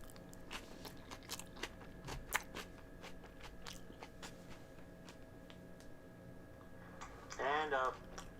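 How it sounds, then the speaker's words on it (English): Salad is chewed close to the mouth in wet, crunchy bites with irregular clicks and crunches, faint and intimate, and a brief hum or voice sound near the end. "disgusting chewing noises"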